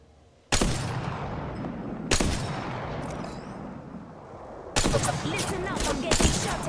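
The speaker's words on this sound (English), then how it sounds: "I'm getting shot at." Loud bursts of gunfire in the battle royale shooter Apex Legends, three heavy volleys with rapid repeated shots in the last, close and dominant over the game's background.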